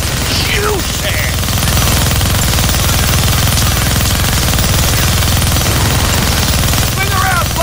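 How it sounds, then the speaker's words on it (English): Continuous roaring minigun fire in the Deadpool video game, a dense unbroken mechanical rattle held at high level throughout, with faint game voices and chirps briefly breaking through on top. "You're gonna need both hands to shoot that minigun."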